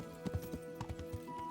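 Horse hooves clip-clopping in the medieval game Kingdom Come: Deliverance, a steady uneven patter of hoofbeats at close range over a low ambient bed, with no talk.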